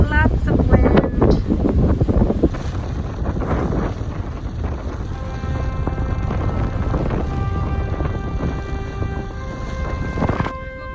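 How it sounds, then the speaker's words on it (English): Strong wind buffeting the microphone on a sailboat leaving the Corinth Canal into choppy water, a constant loud roar with gusts and a person speaking over it. "Officially exiting into super choppy waters, lots of wind."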